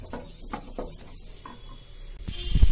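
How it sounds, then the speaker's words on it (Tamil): Onions sizzle softly in hot oil for chana masala, with a few stirring scrapes against the pan and a louder clatter right at the end, all close and fairly quiet with no voices. "வெங்காயம் நல்லா வதங்கிடுச்சு."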